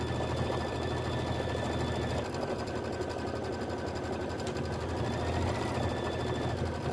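Embroidery machine stitching a Kimberbell autumn quilt filler block, a steady, close, rapid mechanical hum and needle chatter running continuously without pause.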